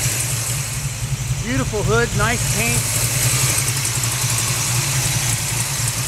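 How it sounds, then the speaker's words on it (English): A 396 big block V8 in a 1967 El Camino with a four-speed idles steadily with a low, lumpy rumble throughout, while someone talks briefly over it. "Nice smoky sound of the motor."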